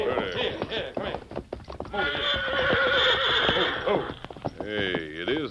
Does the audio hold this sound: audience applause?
no